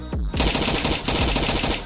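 Rapid automatic gunfire rattles in Roblox Hood RP, a dense, loud burst of shots fired at close range after a brief opening pop, continuing steadily without a break.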